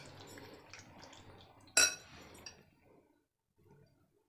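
Marinated chicken pieces stirred in a bowl for homemade KFC-style popcorn chicken, giving soft wet shuffling and a sharp clink of utensil against the bowl partway through, then quieting to near silence.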